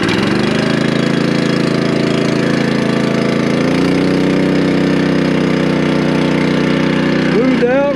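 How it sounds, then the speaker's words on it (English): A Case IH 9250 combine's engine runs loud and steady in a dense, continuous drone, with a shift in pitch partway through and a brief higher mechanical sweep near the end. "Get the old motor running."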